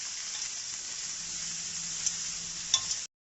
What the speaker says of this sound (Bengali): ভালোভাবে নাড়াচাড়া করে যখন ভাজা ভাজা হয়ে যাবে